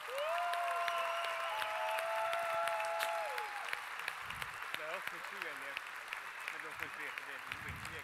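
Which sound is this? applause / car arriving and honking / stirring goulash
applause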